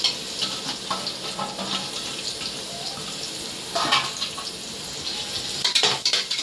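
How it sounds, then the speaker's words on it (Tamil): Onions frying for mushroom biryani, a close sizzle broken by repeated clatters and scrapes of a spoon stirring against the pan, with a few louder bursts of stirring. "இது நல்லா ஒரு பொன்னிறமாக வர்ற வரைக்கும் நல்லா கிளறி விட்டுக்கோங்க."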